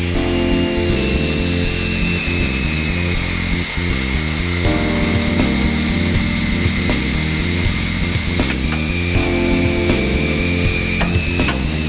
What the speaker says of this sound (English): Heard that pop, started to pop, that means that it was breaking through, that the punch was breaking through